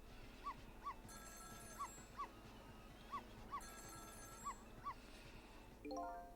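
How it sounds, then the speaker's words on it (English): In the game Ghost Trick, a telephone rings in the apartment next door, heard as faint, paired electronic ring tones that repeat in a steady rhythm over a quiet background hum. "It was the sound of a telephone ringing, coming from the apartment next door."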